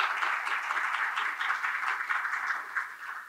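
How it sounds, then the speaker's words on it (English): Applause from the audience at an academic award presentation ceremony, a steady, even patter of many hands clapping, moderately loud and continuous, fading slightly at the end. "Let's start by giving everyone a big round of applause for being here."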